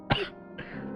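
A man in a smoke-filled room gives a single harsh cough, then clears his throat with a shorter rasp, close and loud with no talk.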